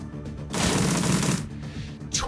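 A short burst of video game gunfire, a loud rapid volley lasting about a second before fading out, with no voices.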